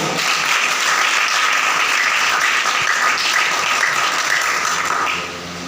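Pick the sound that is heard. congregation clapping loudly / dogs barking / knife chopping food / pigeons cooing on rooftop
congregation clapping loudly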